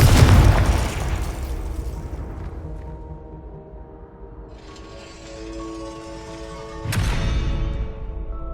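A Confringo spell explosion in Hogwarts Legacy, a loud booming blast that decays into a sustained ringing magical tone, then a second sharp burst near the end.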